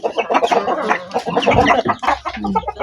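Chickens, including two-month-old young birds, cluck and chatter steadily while being fed corn bran mixed with rice, with overlapping close calls and no talking.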